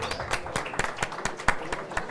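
Sparse audience applause at a panel event, a dozen or so separate claps spaced irregularly, fairly quiet and thin as though only a few people are clapping.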